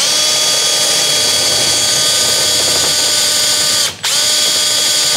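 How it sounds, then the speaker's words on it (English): A power drill whirs steadily and loudly at close range, its pitch holding nearly constant, with a brief dropout near the end before it spins up again. "This drill bit isn't great."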